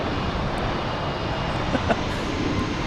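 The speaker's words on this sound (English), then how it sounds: "JetBlue heading to Philadelphia." A JetBlue jet airliner passes at Boston Logan airport, a loud, steady engine roar filling the whole moment with a brief brighter swell near the end and no clear talk over it.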